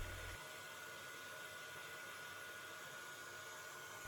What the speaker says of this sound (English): take a hairdryer, turn on maximum speed, maximum temperature,